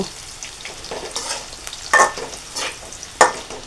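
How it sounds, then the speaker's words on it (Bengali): Fish and potatoes fry in oil in a pan, giving a steady sizzle broken by a few sharp clinks and scrapes of stirring, close and fairly loud with no voices. "দেখেন মাছ সয়াবিন ভেজে নিয়েছি, আলু হালকা করে ভেজে নিয়েছি"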